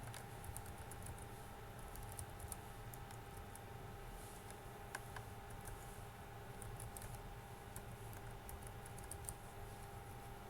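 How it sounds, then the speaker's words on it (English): Keys tapped steadily on a computer keyboard while entering an email address at a sign-in screen, a quiet, continuous patter of small clicks close to the microphone with no talking. "When you finish with the typing the email,"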